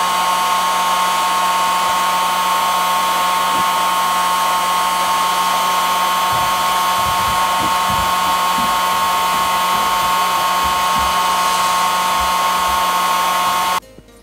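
A heat gun blows steadily at about 300 degrees on an iMac display, a loud constant whine with airflow, faint knocks underneath, cutting off at the very end.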